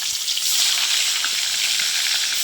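Magur catfish frying in hot oil in a kadai, giving a loud, steady sizzle and crackle that runs unbroken through the clip with no voices.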